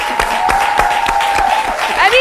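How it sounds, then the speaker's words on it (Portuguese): A studio audience on a television show applauds loudly and steadily in a dense wash of clapping, with a sustained tone running underneath and a brief voice near the end. "Um aplauso."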